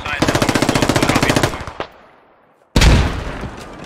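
Automatic gunfire in the video game Squad: a fast, loud burst of evenly spaced shots for over a second, then a lone single shot, a pause, and a sharp loud blast that tails off.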